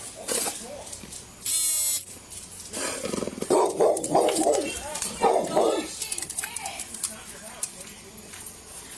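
Dogs bark in scattered bursts at mid distance, mixed with people talking and a brief high-pitched electric whine.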